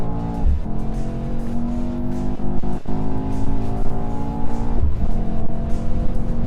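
A Mercedes-AMG E63S launching hard from a race start in the wet, its engine roaring loud and continuous with rising revs and abrupt gear-change dips as the car pulls through the gears.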